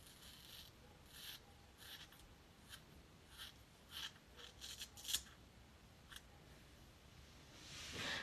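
Scissors snipping through a hair piece, a scattered series of quiet, close crisp cuts with faint rustling between them, ending in a longer rub.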